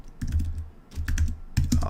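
Someone types on a computer keyboard close by in three quick bursts of clicking keystrokes, with brief pauses between them.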